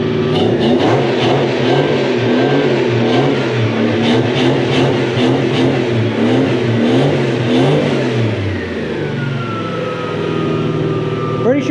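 A Mk1 Ford Cortina fitted with a 4-litre 1UZ-FE V8 and aftermarket mufflers revs loudly and repeatedly up close, engine pitch rising and falling before settling toward idle, with people's voices mixed in.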